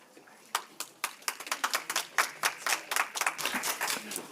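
Scattered audience clapping at a city commission meeting, a run of distinct sharp hand claps in an irregular rhythm that builds into a thin patter, fairly close and with no talk over it.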